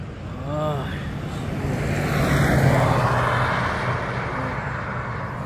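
Fast traffic rushes along a scenic highway in Barnet near a river valley, a broad, loud roar of tires and engines swelling and fading as vehicles pass, with a brief voice early on.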